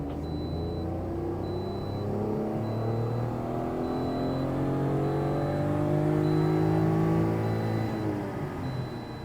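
A car engine revs hard and holds against the rev limiter during a tuning session at a Shiftech performance center, a loud continuous roar with wavering pitch that bounces as the limiter cuts in.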